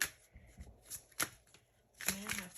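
A deck of tarot cards is shuffled in quick, close, crisp riffling bursts, with a brief faint voice near the end.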